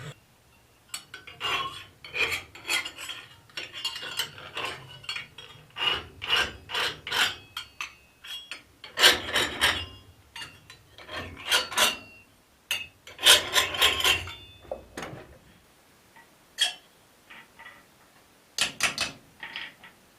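A chainsaw file rasps across forged steel, shaping an arrow-pattern latch body in bursts of short, gritty strokes, close and dry, with brief pauses between sets.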